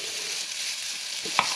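Batter poured into a greased waffle pan sizzles steadily with a bright, hissing fry throughout, close up, ending with a brief clink and thump near the end; no talking.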